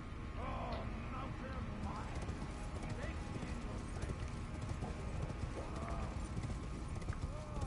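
A horse gallops in the video game Elden Ring, its quiet, rhythmic hoofbeats steady against a game soundscape, with a player talking over them.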